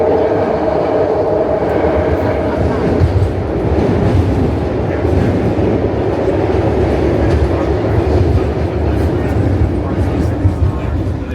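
A BART train rolling into Embarcadero station underground, a loud, continuous rumble of wheels and carriages close by, with voices and an announcement over the noise.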